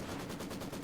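Maxim machine gun fire in the video game Company of Heroes 2, a rapid rattling burst of evenly spaced shots lasting under a second, loud and dense.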